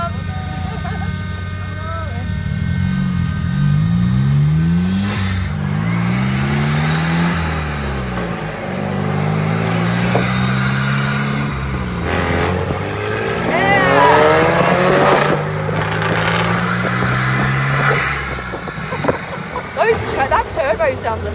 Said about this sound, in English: That turbo sounds amazing,